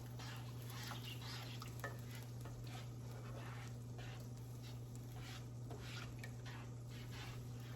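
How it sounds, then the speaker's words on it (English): A utensil scrapes and swirls through milk and flour thickening into gravy in a pan, a soft continuous stirring rasp over a faint sizzle and a steady kitchen hum. "Then you just kind of stir it around, let that milk and that flour get to know each other."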